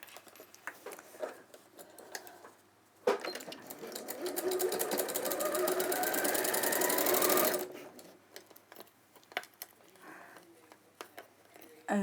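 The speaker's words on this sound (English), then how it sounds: "And sew those two together." A sewing machine joins two pieces of cotton canvas in one sustained burst of rapid whirring stitching lasting several seconds, framed by quiet handling noises before and after.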